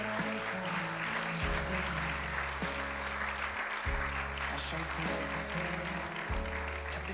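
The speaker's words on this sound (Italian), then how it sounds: "Facciamo un bel applauso." Applause from an audience at a national pastry championship award ceremony in 2024, a steady loud wash of clapping that runs the whole time over a pulsing low musical backing.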